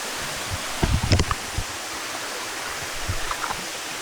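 A waterfall and stream at Erawan, Thailand, give a steady, even rush of flowing water with a few brief rustles and soft knocks close by.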